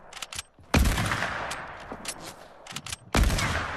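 Sniper rifle shots in an online shooter video game: two sharp, loud shots stand out a couple of seconds apart among lighter gunfire pops and clatter.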